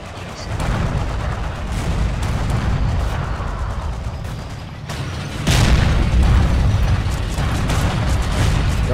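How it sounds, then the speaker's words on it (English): Battle sounds in the video game Forgotten Hope 2 during the fall of Tobruk as a turret is blown up: heavy booming blasts and gunfire over a continuous rumbling din, with a sharp loud explosion midway followed by dense roaring noise. "I want to blow up the turret."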